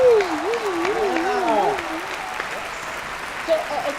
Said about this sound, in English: a big round of applause wherever you are